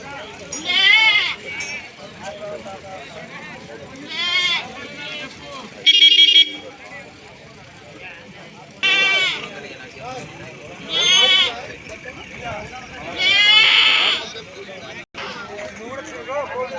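Native goats, bucks and sheep at a crowded village livestock market bleat in loud, wavering bursts, roughly five calls spread across the stretch, with people talking throughout and a brief mechanical tone in between.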